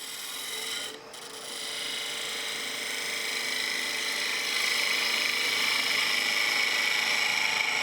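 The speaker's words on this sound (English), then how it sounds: "I can make it even smoother by using my skew." A skew chisel slicing across spalted beech on a wood lathe gives a steady, close rasping hiss that holds without a break, dips briefly near the start and then grows slightly louder, with no talking.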